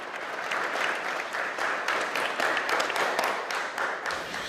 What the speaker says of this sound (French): sous les applaudissements de la communauté kurde